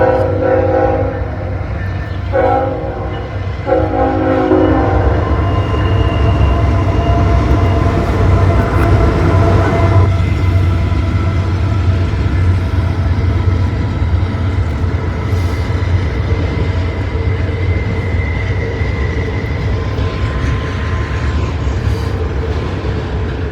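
A westbound Norfolk Southern train passes close by, its horn sounding in short blasts before a steady loud roar of rolling cars and rumbling wheels continues throughout.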